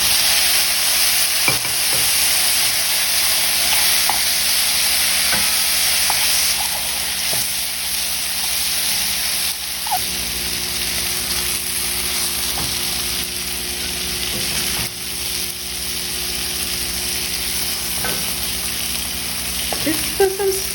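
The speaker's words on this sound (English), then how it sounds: "In goes the egg, and we're going to let this brown just for a bit." An egg fries and browns in a pan for an egg curry, giving a continuous, even sizzle with small pops and crackles and no voices.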